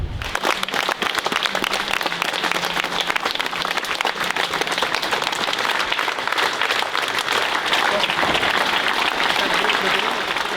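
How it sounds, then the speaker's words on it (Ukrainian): Sustained applause from a large crowd at a funeral farewell for actor and soldier Yuriy Felipenko, dense steady clapping that carries on without pause throughout. "це зовсім інші аплодисменти, ніж ті, які лунають, коли в останню путь тебе проважають"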